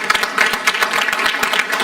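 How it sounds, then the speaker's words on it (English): Audience at a Paterson city meeting held at Passaic County Community College applauding the host, a short burst of scattered hand claps from a room of people. "We can give him a round of applause."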